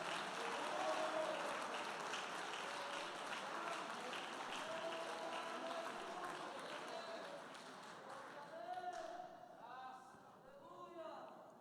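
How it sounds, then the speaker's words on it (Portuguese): A church congregation claps and applauds for Jesus during a service, a dense steady wash of hands lasting several seconds, with voices and sung or shouted tones rising over it toward the end. "Vamos por força nessas palmas para Jesus"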